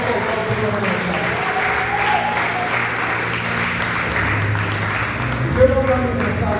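A church congregation applauds the Lord during a Portuguese-language sermon, a steady wash of clapping held at an even level throughout, with voices and some music-like tones mixed beneath it.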